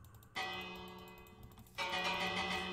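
A bell in a video game rings out with sustained, shimmering tones, struck again partway through so the ringing swells louder; it sounds alone with no talk.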